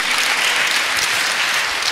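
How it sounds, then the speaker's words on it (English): A church congregation applauds Pastor Queen and her team, a dense, steady wash of many hands clapping throughout, close and loud with no gaps. "Let's clap for Pastor Queen and her team."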